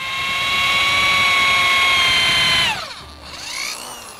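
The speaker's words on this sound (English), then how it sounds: "I picked a drill bit that fit, slides right in there." A power drill whines steadily while boring through a block of wood, with high tonal harmonics, then winds down and spins back up briefly near the end, alone and close.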